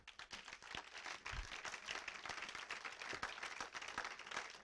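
A church congregation applauds the Lord, with dense, steady clapping from many hands continuing throughout, a few sharper claps standing out near the front of the room.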